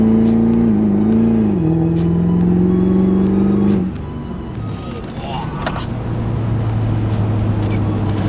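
A Duramax diesel pickup fitted with a Dodge rear end revs and pulls hard, its loud engine note climbing steadily and then dropping away into a rumbling drive with road noise.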